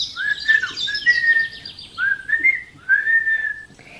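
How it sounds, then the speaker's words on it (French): Someone whistles a short, lilting tune in a series of bright phrases with brief pauses between them, close and clear. "le loup s'éloigne tranquillement en sifflotant"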